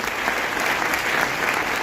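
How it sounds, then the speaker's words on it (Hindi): A crowd at an AWPL business event claps in steady, dense applause throughout. "एक बार जोरदार तालियां होनी चाहिए।"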